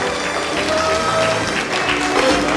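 A studio audience at a 1997 German television show applauds, steady dense clapping throughout the short stretch, fairly loud and close, with a few voices mixed in.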